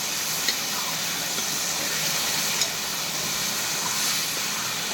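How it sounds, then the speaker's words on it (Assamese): Chicken meat fries in a hot pan with potato and pumpkin already added, giving a steady close hiss and sizzle with a few faint pops, and no talking over it. "এতিয়া মাংস ভাজি আছোঁ মই।"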